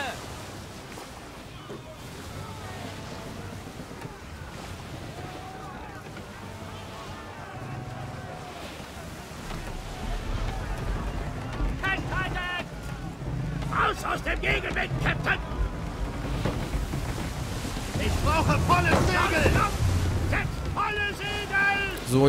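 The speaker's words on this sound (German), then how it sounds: "Wenn wir gleich mal ein bisschen gegen den Wind segeln." Wind and waves wash around a sailing ship at sea in Assassin's Creed III, sailing against the wind during a naval battle off the coast, a steady rushing swell that grows louder later, with someone talking over it.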